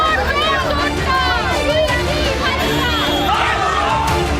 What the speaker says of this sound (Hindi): जैसे ही अभिषेक बनर्जी दिखे चोर चोर के नारे लगाए जाने लगे और पूरी भीड़ उन पर टूट पड़ी